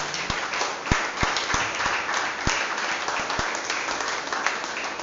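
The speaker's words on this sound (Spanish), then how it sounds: "Den un fuerte aplauso al Señor." A church congregation breaks into loud, sustained applause that fills the room, with a few sharper individual claps and thumps standing out from the steady wash of clapping.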